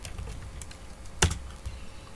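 Someone types a Linux command on a computer keyboard, a short run of soft close keystrokes with one sharper key strike near the middle, no voices present.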